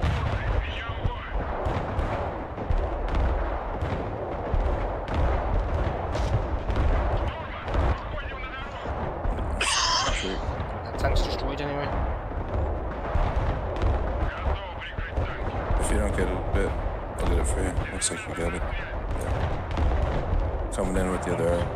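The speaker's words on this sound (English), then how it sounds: "Going for another gun run." An aircraft making a gun run in the Broken Arrow video game, with loud continuous cannon fire and heavy explosions rumbling densely throughout a 5v5 multiplayer battle and a voice talking over the combat.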